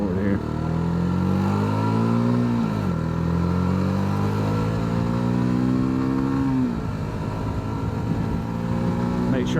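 A Hyosung GD250R 250cc motorcycle pulls hard in fourth gear, its loud, close engine note climbing steadily, dipping briefly as it lets off, then rising again through a second long pull.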